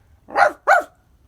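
Two sharp dog barks in quick succession, close and loud, followed by silence.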